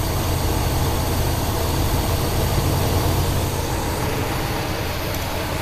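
A 1972 Buick GS Stage 1 engine idles roughly, a loud, steady low rumble that runs unbroken throughout with no voices.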